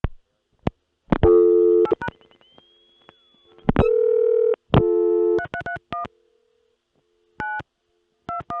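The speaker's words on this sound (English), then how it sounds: "Let me dial 333, throwaway digit, and then 9, and then the beginning of an area code and a number." Loud, clear telephone touch-tone dialing on an early-1980s oil company CCSA private network, with bursts of DTMF digit tones separated by short pauses and a brief steady tone in between, no voices.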